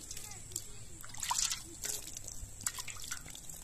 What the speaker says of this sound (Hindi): पानी कितना ठंडा ठंडा है और हमको इसमें मुंह धोने में कितना मजा आ रहा है